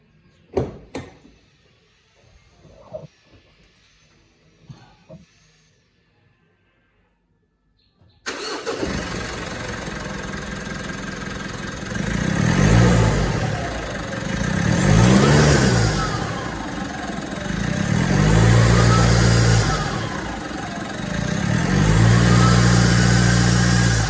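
After a few quiet clicks and knocks, a 2018 Mitsubishi Triton pickup engine with a suspected failing turbo cranks and fires up, then revs loudly several times in slow, rising and falling surges.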